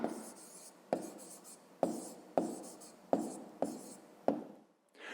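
A pen writes an answer for a fifth-grade maths exercise on paper: about seven short, distinct scratching strokes spaced roughly evenly, close and fairly quiet, with no voices.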